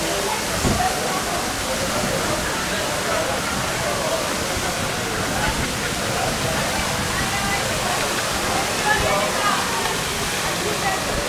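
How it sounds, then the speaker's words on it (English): Heavy rain pours down outside the Casa Bonita restaurant, a loud, dense, continuous wash of falling water that fills the whole stretch without letup. "And now we can't go anywhere because it's raining."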